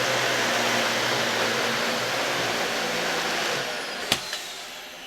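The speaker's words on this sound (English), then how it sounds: "Now let's contrast that with the portable vacuum" A Dyson portable vacuum cleaner runs steadily with a loud, broadband whooshing roar and whine, followed by a couple of sharp clicks near the end.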